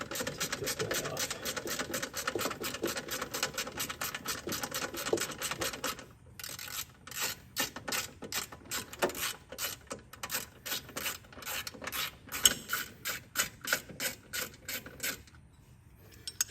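A ratchet works a 10mm bolt loose on an LT6 engine with fast, even clicking bursts, close and clear, pausing briefly before more rapid clicks that come in short runs.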